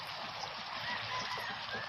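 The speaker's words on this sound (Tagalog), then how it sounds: "Yan po ang ating mga ibon." Gamefowl roosters near a seaside pier give faint, scattered clucks over a soft, steady background wash, heard at a distance.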